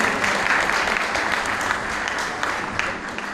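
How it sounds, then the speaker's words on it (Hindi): Steady applause from an audience at a student award ceremony in Rajgangpur, many hands clapping in a dense, continuous patter with slight swells, fading a little toward the end. "जोर से तालियां हो गए।"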